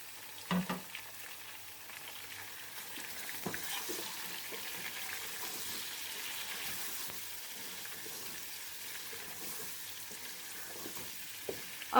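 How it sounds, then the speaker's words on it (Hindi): Chicken fries in a pot for Punjabi chicken pulao, giving a soft, steady sizzle close by with a few small clinks of stirring. "अब हमें चिकन को इतना भूनना है कि चिकन का कलर बिल्कुल गोल्डन ब्राउन हो जाए"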